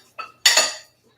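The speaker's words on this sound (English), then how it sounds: "We're going to pull our pan over here onto the cutting board, so it's nice and close." A cooking pan slid and set down onto a cutting board in a home kitchen while making bacon and three-cheese stuffed mushrooms, giving a faint knock then a single loud metallic clatter and scrape up close, with no talking.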